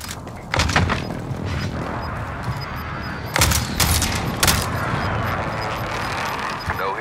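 Airstrike explosions and bursts of gunfire in the video game Warzone: heavy booming blasts at irregular intervals over a steady rumbling battle bed, with short crackling volleys between impacts and no speech.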